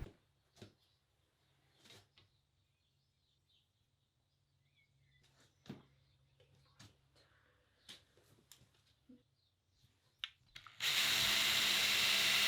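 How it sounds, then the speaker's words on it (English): Power drill boring into a freshly built wall to set heavy-duty anchors, with scattered knocks and handling clatter before loud, continuous drilling starts near the end and runs to the close. "I needed to drill the freshly built wall and install very heavy duty anchors."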